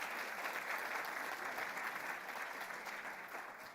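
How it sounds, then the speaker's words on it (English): Audience applause at a women in finance and insurance summit in Namibia, a steady dense clapping from a large crowd that holds evenly throughout and tapers slightly at the end. "Shall we please give the council members another round of applause?"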